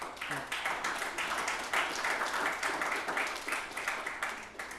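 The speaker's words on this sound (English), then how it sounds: "let that applause wash over you" A live podcast audience in a lacrosse community applauds steadily, dense clapping filling the room at moderate distance, with a faint voice briefly audible near the start.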